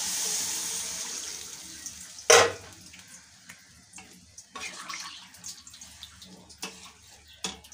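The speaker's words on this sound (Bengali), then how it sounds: "আর জল দিয়ে দেবো।" Water poured into a cooking pot of chapila fish curry with potato, eggplant and beans, a brief loud splash followed by quieter trickling and faint kitchen clatter.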